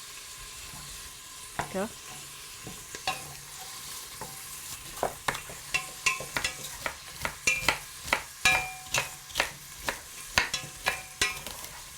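Vegetable stems sauté in sesame oil with a soft sizzle, while a spoon or spatula repeatedly scrapes and stirs the pan in uneven strokes. A voice briefly speaks over it.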